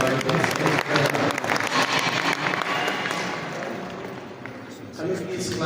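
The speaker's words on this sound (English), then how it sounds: "Please round of applause as we invite the Secretary General." Audience applause at a community gathering as a secretary general is welcomed, a dense wash of many hands clapping that stays loud and steady, then gradually thins and fades toward the end.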